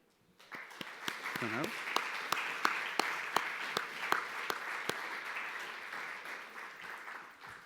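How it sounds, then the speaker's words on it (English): Applause builds quickly and continues steadily from a gathered conference audience thanking speakers and exhibitors, with a few sharper individual claps standing out. "I'd like to invite all delegates to give a warm round of applause"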